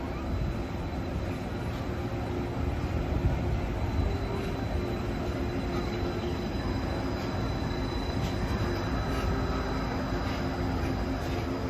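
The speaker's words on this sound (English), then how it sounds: "That's the monorail. We have the Mark 7 monorail." A Disneyland Mark 7 monorail glides past, producing a steady, loud rolling rumble with faint high wheel squeal that holds evenly throughout.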